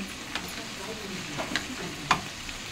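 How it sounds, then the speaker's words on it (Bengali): Ginger and garlic sizzle in hot oil for a jackfruit curry, a steady close frying hiss broken by a few sharp scrapes of a stirring spoon. "একটু আদা রসুন আর একটু দিলাম, ওরকম ভাজবো।"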